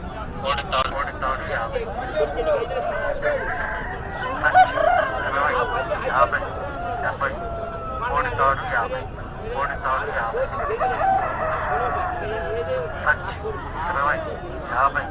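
Country fowl at the Nallapadu Friday market cluck and crow faintly in the background under steady crowd noise and voices, no single call standing out.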